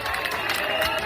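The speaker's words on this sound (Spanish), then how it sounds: "Aplausos ahora mismo para los militares." A protest crowd in Ceuta applauding the military, a dense, steady wash of clapping and crowd noise filling the moment, heard at a distance without any distinct voice on top.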